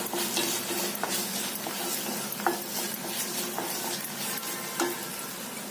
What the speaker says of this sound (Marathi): डाळ आणि कांदा थोडा वेळ परतलं गेल्यावर त्यामध्ये आपण हळद घालायचं आहे